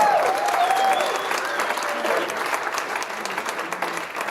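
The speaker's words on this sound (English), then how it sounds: "Give him a big round of applause, Brent Bowman." Applause at a chamber of commerce business excellence awards ceremony as an executive is called to the stage: a full crowd claps steadily and loudly, tapering slightly toward the end.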